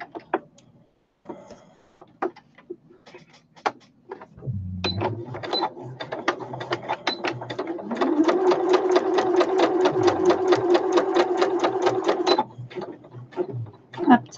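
A sewing machine stitching a fabric snippet basket: a few isolated clicks and single stitches, then a sustained rapid run of rhythmic mechanical needle strokes that stops and gives way to a few more clicks, close and clear.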